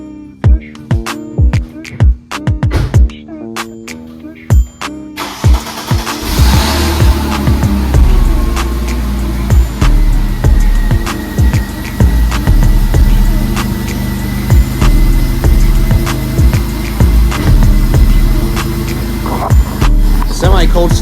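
Mercedes C32 AMG supercharged engine cold-starting on a hot day: sharp clicks and clatter, then the engine catches around five seconds in and settles into a loud, steady, slightly rough idle close by, with scattered knocks and rattles over it.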